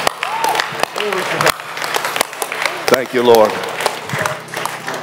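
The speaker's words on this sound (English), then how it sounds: "Give Jesus a hand clap." A church congregation claps for Jesus in a burst of applause, uneven and fairly close, while a preacher's voice carries over it praising the Lord.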